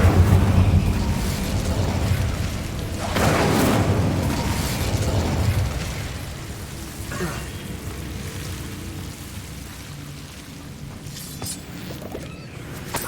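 An Incendio fire spell in Hogwarts Legacy goes off with a loud rumbling burst, followed by further whooshing flare-ups and crackling blasts that gradually fade into a lower ambient rumble.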